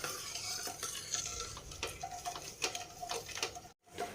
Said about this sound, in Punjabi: ਐਸੀ ਤਰ੍ਹਾਂ ਹੀ ਆਪਾਂ ਇਹਨੂੰ ਹਲਾਈ ਜਾਣਾ ਚੰਗੀ ਤਰ੍ਹਾਂ